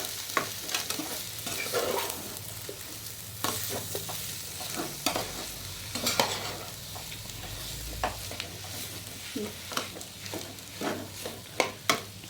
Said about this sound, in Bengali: এখন আমি আলুগুলো পেঁয়াজের সঙ্গে ভালো করে মিশিয়ে নেব।